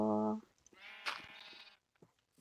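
A Minecraft sheep gives a short bleat, followed by a longer wavering bleat in the game, both fairly close and clear against a quiet background.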